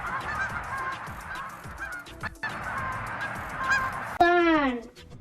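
A goose gives a loud, close honk near the end, a single harsh call with rising and falling overtones, after a quieter stretch of faint background noise.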